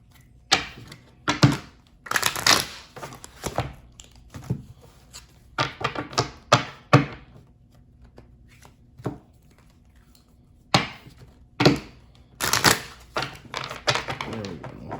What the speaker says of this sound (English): let's go ahead and get these cards shuffled